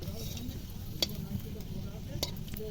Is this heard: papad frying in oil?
yes